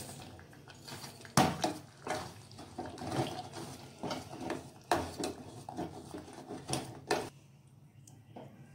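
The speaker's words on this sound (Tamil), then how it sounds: "இப்போ அடுத்ததாக நம்ம மண்டை வெல்லத்தை இதில் ஆட் பண்ணி நல்லா கிண்டிடுவோம்." Wooden or metal spoon scraping and clacking against a pot while jaggery is stirred into rice payasam, giving irregular nearby knocks and scrapes with a few sharper clinks, no voices.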